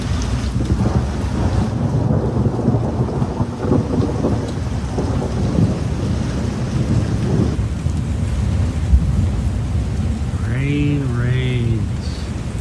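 Thunder rumbles through steady rain during a warm Florida thunderstorm, the heavy downpour a constant near wash with deep low rolls; near the end a few short rising animal-like calls cut through the storm.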